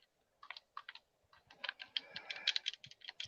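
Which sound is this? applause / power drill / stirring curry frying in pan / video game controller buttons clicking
video game controller buttons clicking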